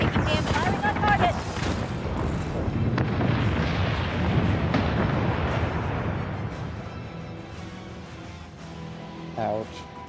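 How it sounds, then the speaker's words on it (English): Spaceship weapons firing in the space battle game Battlestar Galactica Deadlock, a dense continuous rumble of booming volleys and bursts that slowly fades, with talk over it. "Defender is taking damage. Firing on target."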